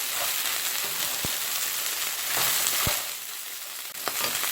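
Small crabs stir-fry in a pan until the oil nearly cooks off, a continuous dense sizzle with occasional sharp ticks and pops of shells shifting, close and alone.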